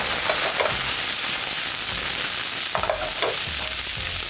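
Chopped bell pepper fries in a hot pan with a steady, loud sizzle, broken by repeated scraping and stirring strokes, with no talking.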